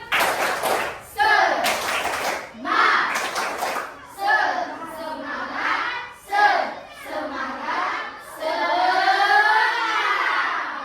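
A group of students performs a rhythmic spirit-clap routine in a classroom, bursts of clapping mixed with loud chanting voices, close and energetic, with short pauses between phrases.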